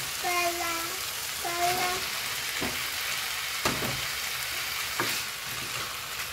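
Spinach sizzles in a pan with a soft continuous frying hiss, punctuated by a few sharp clinks and scrapes of stirring, and brief tonal squeaks early on.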